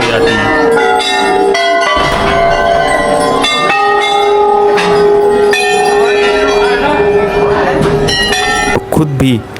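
Temple bells ring repeatedly at Kainchi Dham in Uttarakhand, bright metallic clangs overlapping in an irregular, continuous peal, loud and close with some voices around them.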